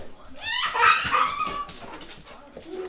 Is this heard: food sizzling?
no